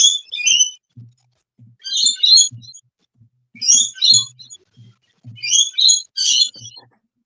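Common myna birds give repeated bursts of chattering, whistled calls in several clustered phrases, fairly close and loud, with low thumps between them and no talk.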